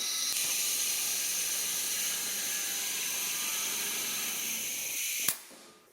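Shop compressed air hisses steadily into the emergency fitting of the air suspension on a 1976 Mazda RX-5 Cosmo, a loud, close, continuous rush that cuts off abruptly near the end and leaves a brief fading tail.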